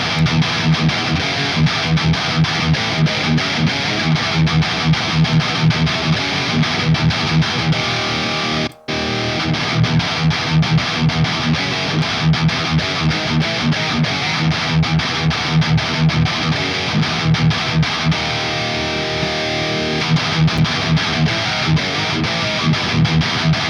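A heavily distorted electric guitar plays steady, driving riffs with a thick amp tone through an STL Tones Tone-Up amp modeler, briefly cutting out for a moment partway through.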